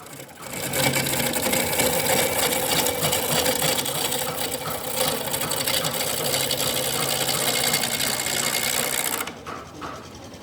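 A wood lathe spins a cedar blank from park trees at around 1000 rpm, giving a steady close mechanical whir and hum with a faint rattle. It runs without a break for about nine seconds and then drops away quickly.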